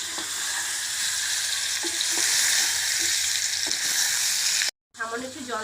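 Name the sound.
boiled mango being stirred and fried in oil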